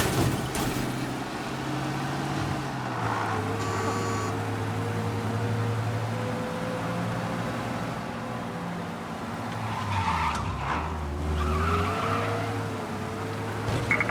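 A car in the Mafia Definitive Edition video game is driven fast with a steady engine drone, and tires skid and squeal briefly partway through, with no talking.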